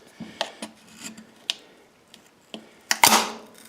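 A screwdriver pries at the plastic housing of an Ariens snow blower, giving scattered scraping rasps and small plastic clicks, with a louder crack and grinding scrape near the end.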